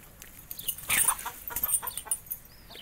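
Chickens clucking beneath a laden fig tree in Portugal, a run of close, busy clucks and squawks rising and falling over a couple of seconds.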